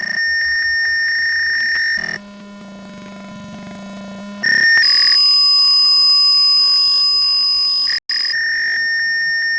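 Simulated fire alarm buzzer from an Arduino home security circuit in Tinkercad, steady electronic tones that jump between different pitches in blocks, loud and alone with no talking.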